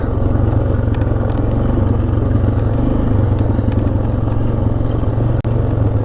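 A 1996 Polaris Sportsman 500 ATV engine drones steadily during a test ride, a loud, close, continuous rumble with rapid pulsing firing and some rattling clatter over it.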